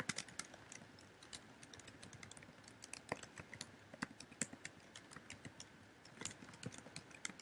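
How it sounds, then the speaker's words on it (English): Fast, light clicking of keys on a computer keyboard, close and fairly quiet, in uneven bursts of typing with short pauses, no talking. "If I can type."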